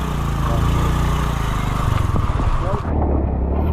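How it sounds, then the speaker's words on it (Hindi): Small motorbikes carrying riders pass close by on a tour in Moola Chutok, Khuzdar, Balochistan, with a buzzing engine drone that swells and fades over a few seconds, no clear talk. "तो भाई ये बाइकें निकल रही है, ये भाई बाइक निकली है।"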